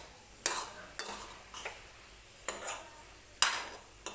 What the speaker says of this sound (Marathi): ही बटाट्याची भाजी जी आहे ती आपल्याला तेलामध्ये व्यवस्थित म्हणजे परतवून घ्यायची